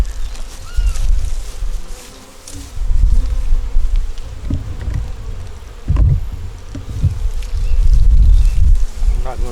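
Honeybees buzz densely around a hive in springtime, a close, loud, continuous drone that swells and fades as insects pass near, with faint rustling beneath.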